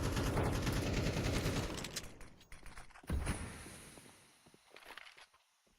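Rapid gunfire bursts from a Counter-Strike esports match dominate the opening seconds, loud and dense, then fade into scattered shots and softer clatter.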